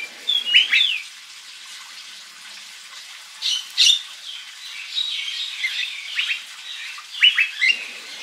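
An oriental magpie-robin (kacer) delivers loud, sharp whistled calls and scratchy squawks in bursts, with short pauses between phrases, close and clear, in an aviary.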